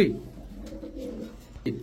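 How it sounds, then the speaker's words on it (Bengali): Cooing of a male long-distance racing pigeon with full silver plumage, bought at auction; low, soft coos run through the clip, rising at the start and again near the end, with a voice talking nearby. "এটা লং ডিস্টেন্সের কবুতর। এটা আপনি নিলামে কেনা ছিল, এটা এটা নর কবুতর।"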